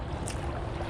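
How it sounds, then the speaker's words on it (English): A narrow boat passing on the River Aire, heard from a kayak as a steady low rumble of engine and churning water that holds even for one second, with soft wind and lapping water over it. "Another boat coming, narrow boat."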